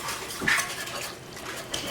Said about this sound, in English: And you just whisk it in.